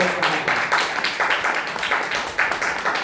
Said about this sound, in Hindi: ताली बजा के हम प्रभु का धन्यवाद करें